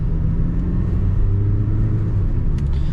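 Kia Seltos HTX Plus diesel with a manual gearbox accelerating on the road, a steady low engine drone and rumble heard from inside the car, continuous and fairly loud with no talk.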